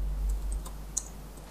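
A few soft keystrokes on a computer keyboard while entering a Linux command, faint scattered clicks over a low steady hum, with one slightly sharper key press near the end.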